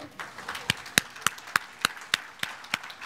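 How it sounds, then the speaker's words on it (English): A vegetable gardening talk audience claps in thanks to parents. The claps are sharp and distinct, coming in a loose rhythm of about a dozen, like a small group applauding close by in a quiet room. "a round of applause for all parents worldwide who keep their children connected to the land"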